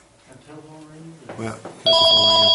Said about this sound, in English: Well, that's the phone ringing.